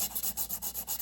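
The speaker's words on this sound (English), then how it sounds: "I grabbed some old files" Old metal files rasp over dried glue along a crack, making quick back-and-forth scraping strokes in an even rhythm, close and fairly loud, with no voices.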